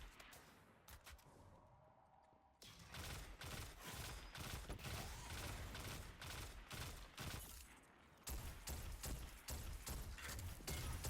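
Bursts of pulse rifle fire with jolt feedback in Destiny 2, a Grandmaster Nightfall on the Moon's Heist Battleground, crackling in rapid repeated volleys, with a short lull before the firing resumes, loud and close.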